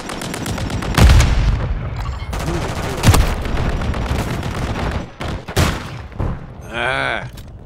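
Call of Duty combat: sharp gunshots crack out in close bursts, with heavy thumping blasts among them, mixed with radio-style voice callouts during a grenade throw under fire.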